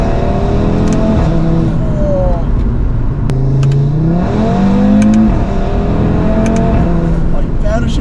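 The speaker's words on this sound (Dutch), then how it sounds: "Oh, die parachuters klinken zo mooi." An Audi RS3 with the DAZA five-cylinder engine revs loudly and repeatedly, rising and falling with a close, steady exhaust roar, while people talk over it throughout.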